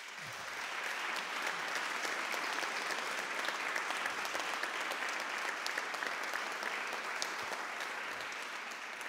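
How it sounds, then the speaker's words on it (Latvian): Sustained audience applause at the Latvian Event Forum Excellence Award 2024 ceremony, a dense, steady wash of clapping from a large crowd that stays loud and even throughout without voices. "Lieli aplausi!"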